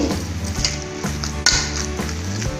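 Cooked lentils (dal) are stirred and mashed in a pot, giving a continuous wet, squelching churn with occasional sharper scrapes against the pot under a low steady hum.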